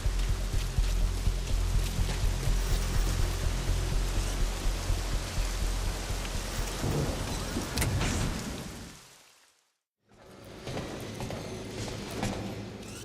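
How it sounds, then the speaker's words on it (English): Steady rain in Metal Gear Solid V: The Phantom Pain patters and hisses continuously, with faint clopping and mechanical noises mixed in, then cuts out briefly before resuming more quietly. "it looks like it's started to rain"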